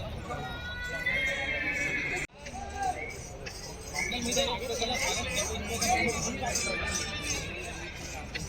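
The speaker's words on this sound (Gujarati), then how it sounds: "ફાઇનલી મિત્રો આપણે બધા ઘોડા ઉતારી લીધા છે" Horses neigh loudly at the Sarangkheda horse fair in 2024, with hooves clip-clopping and the babble of a crowd talking throughout.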